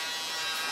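An electric shaver running over a tight fade haircut gives a steady, close, faint buzz with no break, heard alone for under a second.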